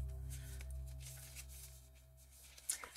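Tarot cards shuffled by hand for a card reading, a soft close riffling and sliding of the deck lasting a few seconds, quiet and alone with no talk.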